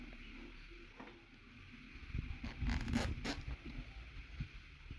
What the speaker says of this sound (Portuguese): Puxa até o final, tira e coloca mais uma vez, pra aí sim o zíper ficar no meio.